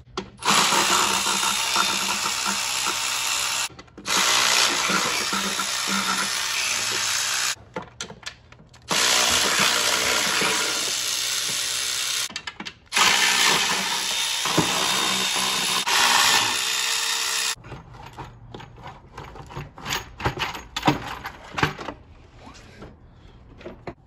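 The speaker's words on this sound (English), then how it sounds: "it's time to loosen all 10 bolts that hold the intake manifold onto the cylinder head" A socket wrench with a 10 mm socket on a 3-inch extension loosens the ten intake manifold bolts on a GM 5.3 L83 engine, giving loud, close whirring runs broken by short pauses, then quieter scattered clicks.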